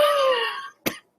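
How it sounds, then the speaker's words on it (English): A single person coughs once, a short voiced hack followed by a sharp burst, then silence. "sorry, this cough"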